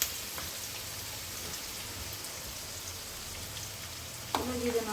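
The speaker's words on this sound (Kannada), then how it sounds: "ಈಗ ಈರುಳ್ಳಿ ಫ್ರೈ ಆಗಿದೆ." Onions frying in a pan for a garlic and egg rice dish give off a faint, steady hiss, with a brief sharper clatter near the end.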